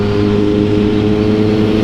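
A motorcycle engine drones loud and close while riding, a steady, even rumble with no speech over it.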